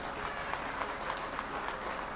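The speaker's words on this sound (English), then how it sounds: "Can we have a big round of applause?" An audience gives a round of applause at a graduation ceremony, a continuous, moderately faint patter of many hands with a few sharper claps standing out, no speech over it.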